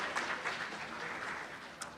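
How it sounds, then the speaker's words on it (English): At the 2022 Kandler Awards celebration, an audience gives its sponsors a round of applause, a steady patter of many hands clapping that carries evenly across the short stretch. "Give them all a round of applause."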